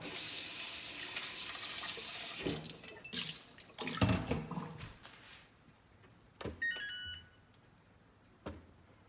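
A kitchen sink tap runs loud and steady, then cuts off, leaving short splashes and clatters as a bowl is rinsed, close by, with no voices.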